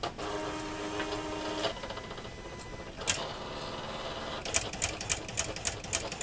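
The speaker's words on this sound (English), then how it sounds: "Now, the Silhouette is cutting my perforation lines" A Silhouette cutting machine cuts perforation lines into card, giving a steady mechanical whirring and buzzing with rhythmic ticking bursts near the end, close and alone.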